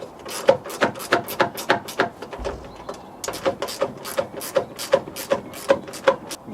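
Screws being fitted on a Range Rover Sport coolant header tank: a rapid series of small ratcheting clicks, close and evenly spaced, with a brief pause in the middle before the clicking resumes.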